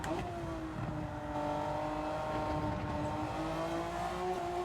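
Honda NSX GT500 race car in a racing video game, climbing through the gears: a loud sustained engine whine rising in pitch, dipping briefly at a shift, then climbing again, with no voices.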